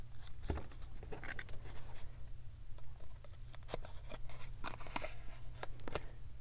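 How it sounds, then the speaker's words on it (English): Scissors trim paper glue flaps on a craft gift bag with a series of quiet, irregular snips and paper rustles over a low steady hum, close and faint. "And get my scissors and trim that."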